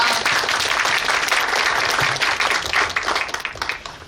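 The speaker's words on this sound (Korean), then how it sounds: "큰 박수 부탁드리겠습니다" Audience at a briefing on plans for the 93rd Chunhyang Festival breaks into loud, sustained applause, dense clapping filling the whole stretch before tapering slightly at the end.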